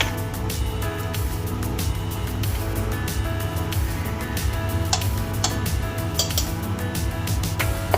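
Spices sizzle and fry in a pan for a paneer kofta curry with ricotta, a steady dense crackle with small metallic clinks of a spoon against the pan throughout, close and continuous.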